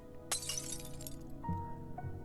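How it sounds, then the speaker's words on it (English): Glass shatters on a night street in the video game Arknights: a sudden bright crash with tinkling shards trailing off, followed by a low hum and faint lingering debris clinks. "and glass shatters."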